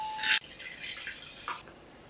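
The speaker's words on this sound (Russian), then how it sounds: "Выливаем в муку воду и все хорошо размешиваем." Sparkling water being poured from a container into flour for pancake batter, a close, fizzing, splashing pour that runs for about a second and a half and then tapers off.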